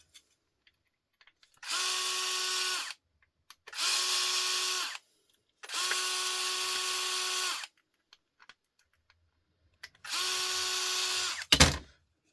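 A power drill removes screws from a circuit board in four close, loud whirring bursts of one to two seconds each, separated by silent gaps, followed by a brief sharp clatter at the end.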